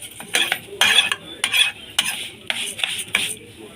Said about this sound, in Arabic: عندي لسان العصفور اهو حمرته وخد لون غامق شويه